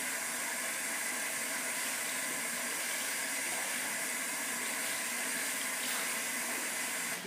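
Hot water runs steadily from a bathroom tap before a shave, a close, even hiss of flowing water that stays constant throughout with no talking.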